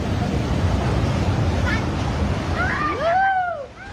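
Typhoon-driven surf and gusting wind roar steadily at a beachfront resort in Dipaculao, Aurora, under Super Typhoon Pepito, with a voice briefly audible near the end over the churning noise.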